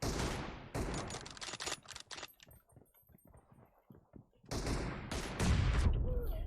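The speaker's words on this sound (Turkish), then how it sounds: "Abi Mehmet abinin pompalı çok kötü vuruyor ya" Pump-shotgun fire in a multiplayer shooter game comes in loud bursts of rapid shots, then fades to quieter scattered pops before another heavy burst near the end.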